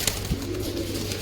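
Pigeons kept by a bird seller give a short, soft, low coo amid steady background noise, close by and brief.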